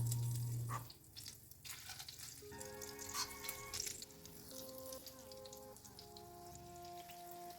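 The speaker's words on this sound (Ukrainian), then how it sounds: "Так, і ця партія смажиться," A batch of chicken cutlets fries in a pan, a soft continuous sizzle with light crackle throughout, low in level, with steady tonal hum layered above it.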